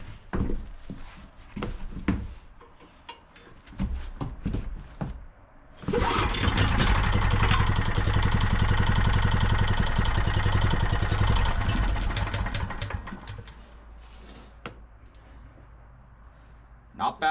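A Gravely Model L walk-behind tractor's swap engine with the choke on fires up after clicks and handling noises, runs loud and steady for several seconds, then settles to a quieter idle.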